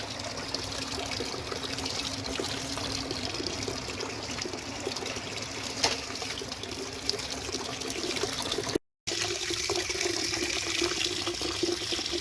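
Water flushing from the drain valve of a residential hot water heater during an anode replacement, a steady broadband rush running continuously for the whole stretch with one brief cut.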